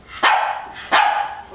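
A dog barks twice in sharp, loud, evenly spaced woofs, close by with no other sounds.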